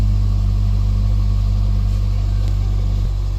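A Honda car with a check-engine fault and poor power, around 91,681 km on it, idles steadily and loudly up close, a constant low engine drone with a slight shift near the end.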